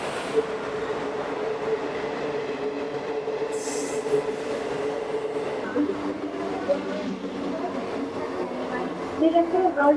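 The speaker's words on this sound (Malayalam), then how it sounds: "ഇത് ഷാലിമാർ എക്സ്പ്രസ്സാണ്, തിരുവനന്തപുരം ഷാലിമാർ എക്സ്പ്രസ്." The Thiruvananthapuram Shalimar Express rolls past at Thrissur railway station with a continuous rumble of wheels and carriages, a brief squeal, and rhythmic clacking building toward the end, while people talk nearby.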